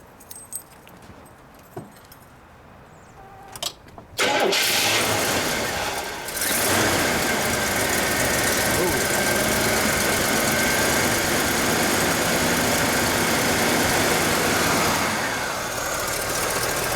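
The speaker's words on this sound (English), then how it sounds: "Let's start up those 500 cubic inches." Keys jingle faintly before a 1973 Cadillac Eldorado convertible's 500 cubic inch V8 cranks and fires, then settles into a loud, steady, smooth idle that runs on to the end.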